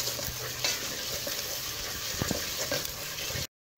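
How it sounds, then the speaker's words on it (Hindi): A spoon stirs semolina halwa in ghee in a pan, giving soft scraping clinks over a continuous gentle sizzle, close and fairly quiet, ending abruptly in silence. "लगातार मैं इसका चम्मच हिलाती रही हूँ"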